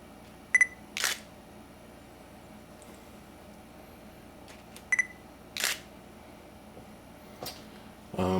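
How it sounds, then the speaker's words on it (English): An APS-C Nikon camera fitted with a Nikon 105mm f/2.8 D Micro Nikkor lens fires its shutter in a few sharp, close clicks, with faint autofocus beeps and quiet pauses between shots. "let's see if we can take a picture with the lens"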